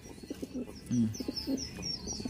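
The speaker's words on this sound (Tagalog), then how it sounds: "Lakas nitong ibon na to. Numuronda pa kahit na anong oras na." A tired racing pigeon resting after a hard race coos softly in a few low, throaty phrases close by, with faint chirps from other birds in the background.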